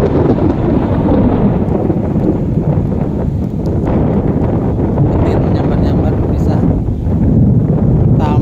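Thunder rumbles over Lake Titiwangsa in Kuala Lumpur on a rainy day, a loud continuous low roar mixed with heavy wind buffeting on the microphone.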